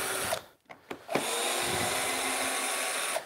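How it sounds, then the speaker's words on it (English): Wood lathe spinning up with a blank glued from seven pieces of wood, a whirring motor tone that starts, pauses briefly and then runs steadily, close and fairly loud. "Let's put it in lathe. Let's spin it up first."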